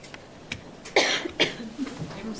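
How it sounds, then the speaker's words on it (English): A couple of sharp coughs sound close by, followed by faint throat noises and quiet murmuring. "I was coughing."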